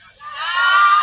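A crowd's shouting swells up over about a second, many voices rising together into a loud, sustained yell.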